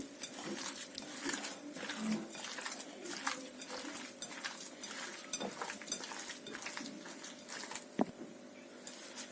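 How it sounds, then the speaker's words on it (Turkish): Minced meat mixture for sour meatballs being kneaded by hand in a wide bowl: soft, repetitive squelching and slapping in a steady rhythm, fairly quiet, with an occasional sharp knock. "Şimdi bunları karıştırıyorum. Güzelce yoğuruyorum."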